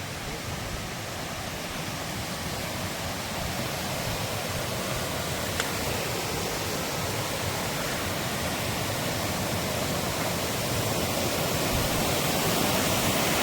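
Steady broadband rush of a waterfall along a mountain trail, a dense continuous roar holding at even loudness throughout with no talk.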